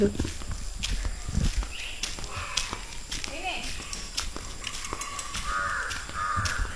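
Crows caw repeatedly outdoors at a rural farmhouse near a jungle. The calls come through under a steady background of people and children talking, with footsteps.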